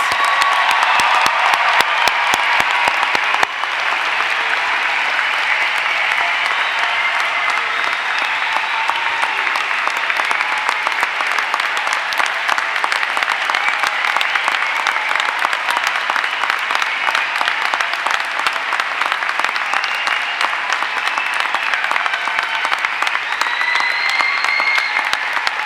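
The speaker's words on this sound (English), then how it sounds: "Please join me in a round of applause for our 2018 graduates." A commencement crowd gives sustained, loud applause for the class of 2018 graduates, thick continuous clapping that fills the hall for over twenty seconds with only faint crowd murmur.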